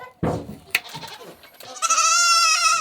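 A goat bleats loudly and close during hoof trimming, a long wavering cry after some brief handling noises, with a person's voice faintly in the background.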